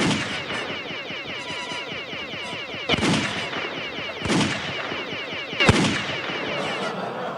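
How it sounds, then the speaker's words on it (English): Sniper rifle fire in a student-built video game demo: three sharp, loud shots spaced a few seconds apart, standing out over a busy bed of game sound. "There's our sniper rifle."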